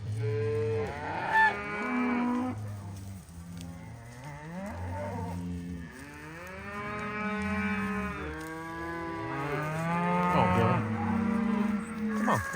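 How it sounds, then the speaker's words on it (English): Mashona cows moo repeatedly on a farm, with long, deep, drawn-out calls from several animals overlapping close by, with short pauses between them. "Big old long-legged cow."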